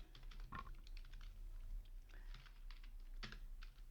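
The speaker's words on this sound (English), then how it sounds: "let's type" Close, quiet typing on a computer keyboard, a run of irregular light key clicks with a few heavier taps and short gaps, with no talking.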